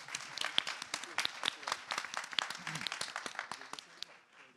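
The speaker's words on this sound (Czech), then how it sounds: "A poprosím už tak pro pana starostu krátký potlesk" A short burst of audience applause for the mayor at a Prague town hall discussion event: dense, steady clapping that holds for several seconds, then thins and fades toward the end.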